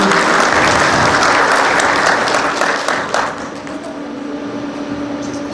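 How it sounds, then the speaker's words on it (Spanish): Sustained applause from an audience at a university ceremony, dense and steady, tapering slightly toward the end. "Los aplausos para él, por favor."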